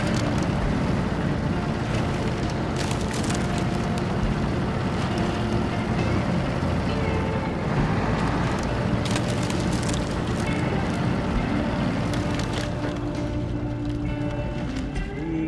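A truck engine in SnowRunner, crossing the Russian Arctic wastes, drones loud and steady throughout with a rough, rumbling roar and small shifts in load.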